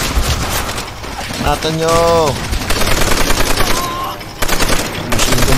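Call of Duty: World at War machine gun fires in rapid repeated bursts, loud and close, while someone talks and shouts over the game noise.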